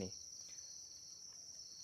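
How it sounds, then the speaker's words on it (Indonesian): Crickets chirp in a breeding box inside a cricket farm, a steady high-pitched trill holding constant and close, faint but continuous with no talk over it. "ini peternakan jangkrik milik saya yang di dalam box ini itu box"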